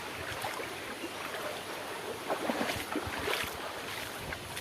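Rainwater floods a road and streams along it in a steady, close rushing wash, with a few louder surges of splashing flow and no voices.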